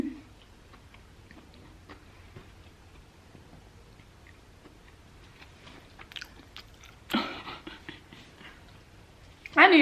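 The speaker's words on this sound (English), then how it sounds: "I don't know where to bite it. I'm gonna bite it right here." Someone bites into and chews a Popeyes chicken sandwich, giving faint close crunches and chewing sounds, with a louder burst near the end.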